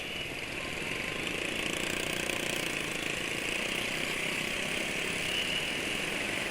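A Vega underbone motorcycle engine runs smoothly, a steady, even hum that holds at one level without revving.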